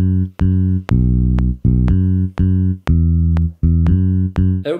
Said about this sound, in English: for the bass we're using a quite stingy sounding fingerstyle bass